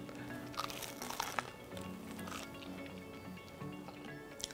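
Bite into a grilled black bean burger served as a patty melt on buttered bread, with soft crunching and chewing sounds close up and quiet, no talking.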